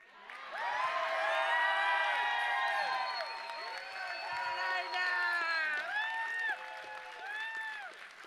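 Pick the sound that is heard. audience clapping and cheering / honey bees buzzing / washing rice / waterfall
audience clapping and cheering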